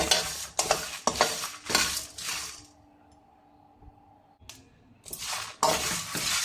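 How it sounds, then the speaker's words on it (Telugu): Chicken fries on high flame in a pan, with loud scraping stirring strokes in bursts over a steady sizzle, pausing briefly before resuming. "హై ఫ్లేమ్ మీదనే వేయించుకోండి. ఒక 2 మినిట్స్ వరకు."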